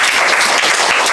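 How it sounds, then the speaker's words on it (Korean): A classroom of students claps together in a brief, close burst of applause lasting about a second. "박수."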